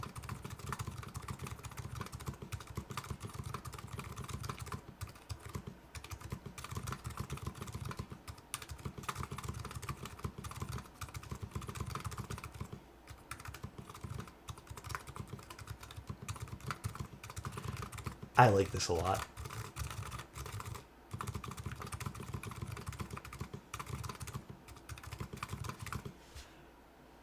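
A 40% mechanical keyboard with silencing rings is typed on steadily for a long stretch, giving a quiet, scratchy, rapid clatter, while someone talks over it at times.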